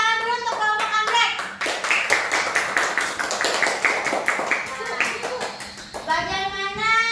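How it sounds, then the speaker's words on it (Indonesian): A classroom of pupils gives sustained rapid clapping for a group of classmates, with children's voices mixed in and a teacher speaking at the start and end. "tepuk tangan dulu untuk kelompok anggrek"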